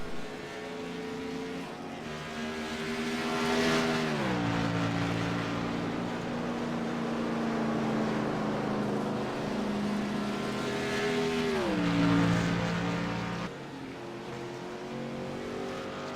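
A race car slows down pit road to the 45 mph limit, its engine a loud, steady drone with sliding pitch drops as it downshifts and passes close.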